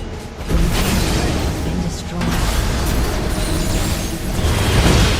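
Heimerdinger's ultimate explosion in League of Legends sets off loud booming bursts amid dense, chaotic battle noise during a fight at a tower, sustained and close.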